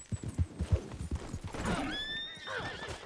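A horse in the video game Red Dead Online whinnies loudly and close, a rising and falling call with shaky harmonics, preceded by several quick hoof clops.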